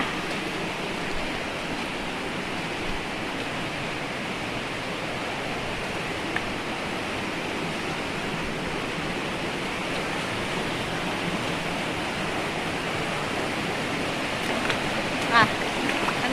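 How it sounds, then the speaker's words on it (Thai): Steady broadband rush of flowing water, like a small waterfall feeding a stream, continuous and fairly close, with a faint splash near the end. "ก็จะฝั่งตรงนี้ก็จะเป็นน้ำตก เล็ก ๆ"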